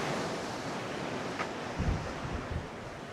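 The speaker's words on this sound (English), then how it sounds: "it's late afternoon now, and the wind has really picked up" Strong late-afternoon wind on the coast at Wellington, New Zealand, a steady loud rush buffeting the microphone with a few heavier gusts and thumps, no voices.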